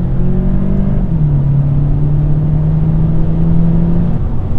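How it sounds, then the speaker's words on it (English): Steady mid-low engine drone from a VW Passat GTE plug-in hybrid accelerating through the gears on combined petrol and electric power, with synthetic engine sound piped through the cabin speakers, a continuous whirring hum that dips slightly and then holds. "it's even pumping engine sound through the speakers, so you really feel like you're in a sporty car"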